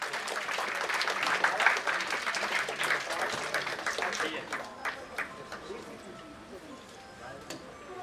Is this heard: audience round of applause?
yes